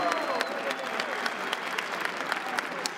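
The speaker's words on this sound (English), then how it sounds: "Give him some applause." Crowd applause rises at a Counter-Strike esports playoff in Cluj-Napoca after a team advances, steady dense clapping filling the arena with a few sharper claps standing out and a voice faintly underneath.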